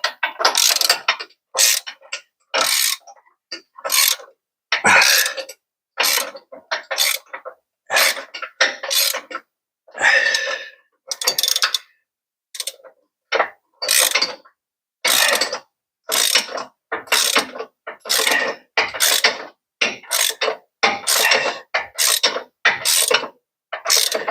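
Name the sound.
wrench ratcheting bolt on Ford Econoline van lift kit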